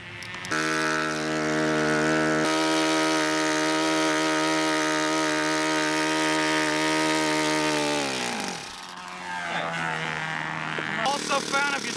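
A small two-stroke model engine with a stock 91 Sato muffler on a 90-degree header runs close and loud with a high, buzzing whine. It holds steady, then drops in revs and comes back up unevenly.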